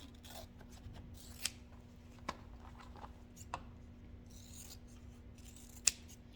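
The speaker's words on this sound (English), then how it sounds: "Now I'm going to trim these corners." Scissors snip the fabric corners of a sewn wristlet clutch in a few sharp, separate cuts spaced apart, close and fairly quiet over a soft rubbing background.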